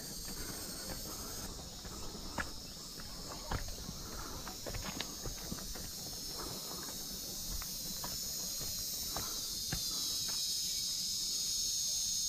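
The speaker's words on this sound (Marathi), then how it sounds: "रातकिड्यांचा आवाज" Crickets chirp in a forest on a Sahyadri mountain trek, a continuous high shrill drone under scattered nearby footsteps and small knocks, faint overall.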